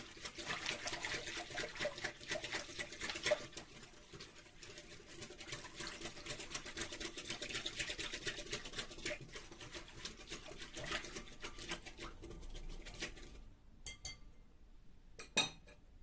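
Milk with sugar and yeast being stirred in a bowl, a steady scraping and light clinking of a utensil against the sides that carries on at an even pace, then goes quiet near the end with a few last taps.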